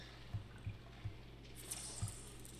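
Water drips in a deep, dark cave in the video game Limbo, four soft separate drops landing at irregular intervals over a low steady hum, with a faint higher hiss later.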